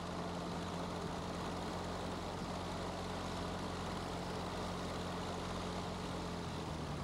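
A light training aircraft's propeller engine idles at low rpm while taxiing slowly, a steady low droning hum with constant loudness throughout, no talking over it.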